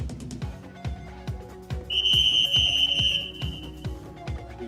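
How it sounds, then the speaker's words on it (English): At a swim meet, an official's whistle sounds one sustained, shrill blast lasting about a second to call swimmers to the blocks, over a steady rhythmic thumping background. "Whistle brings them to the blocks."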